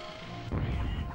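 Dynamite blows up in the video game Frontschweine, a sudden loud booming blast that bursts in midway and rumbles on, with no talk over it.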